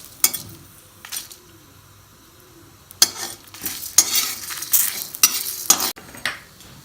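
Potatoes frying in oil with curry leaves on low heat, with a steady soft sizzle and scattered scraping, clinking stirs of a utensil against the pan, louder in the second half.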